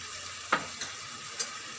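Poppy seed paste frying in a pan makes a faint, soft sizzle, with a few brief scraping strokes of stirring close by.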